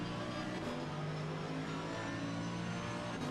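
Mercedes and Aston Martin race cars at Brands Hatch during a club championship, engines droning steadily and loud throughout with a sustained high-revving roar, no voices.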